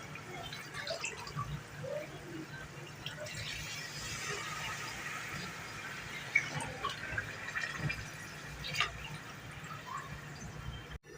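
Water poured from glasses into a cooking pot for a potato and pea vegetable pulao, a steady splashing pour that runs continuously at moderate volume with no voices.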